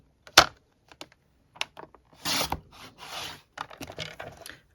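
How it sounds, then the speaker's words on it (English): Card pieces being cut diagonally along a trimmer groove: sharp taps and clicks, then a couple of longer scraping, rasping strokes of the blade through card, close and crisp with quiet gaps between. "line up the corners in the groove, and we're going to make another diagonal cut"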